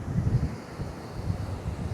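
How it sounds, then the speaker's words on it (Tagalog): A strong, cold wind blows at the seaside, buffeting the microphone in close, gusty low rumbles for a couple of seconds with no voices. "Ang lamig ng hangin, ang lakas."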